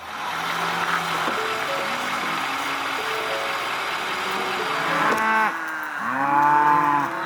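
Cattle moo repeatedly during the spring working of a cow herd at a central catch pen, with cows being sorted from their calves. Several long, overlapping calls sound near and far over a steady engine rumble.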